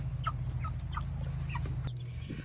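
Backyard meat chickens calling in repeated short, mid-pitched bursts roughly twice per second, over a steady low hum, with a sharp knock near the end.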